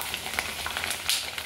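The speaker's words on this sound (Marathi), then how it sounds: "आता पण मी तुम्हाला तळून आणि भाजून दाखवते" Nachni (finger millet) papad crackles and sizzles in hot oil in a kadhai, a steady close frying hiss broken by sharp bubbling pops, with no voices.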